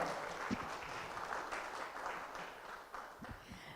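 Applause from the crowd at a start-up awards ceremony in Kolkata fills the hall; it's fairly faint and distant, with a few crisper individual claps standing out.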